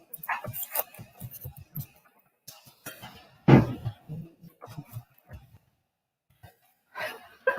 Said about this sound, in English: Our dog is just like snoring away.